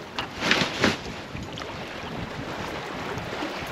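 A solo sailboat moves through light wind on the open ocean. A steady wash of water and wind hiss fills the scene, with a couple of soft thumps early on.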